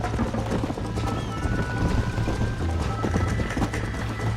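Galloping horse hooves in the Red Dead Redemption video game, a fast steady clip-clop drumming close by over rushing wind and game ambience.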